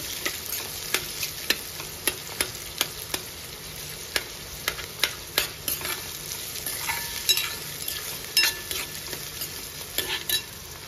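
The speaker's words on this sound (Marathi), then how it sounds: "कांदा आणि लसूण छान परतून घेऊ" Onion and garlic sautéing in a pan for a drumstick vegetable dish, constant sizzling under sharp, repeated clicks and scrapes of a utensil against the pan, nearby with no talking.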